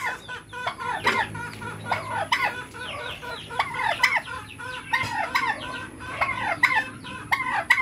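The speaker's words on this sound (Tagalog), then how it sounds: "sisiw ng manok." Several chickens and chicks cluck and chatter continuously in a backyard farm, overlapping calls with some higher chick peeping, fairly close and busy throughout.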